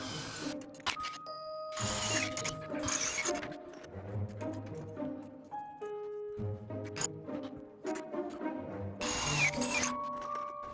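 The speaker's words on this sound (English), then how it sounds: "So I'm gonna drill these 4 holes." A drill boring holes in a steel tube while building a ring-shaped UFO structure: whining motor bursts that start and stop, with grinding and scraping of bit on metal and clanks between runs.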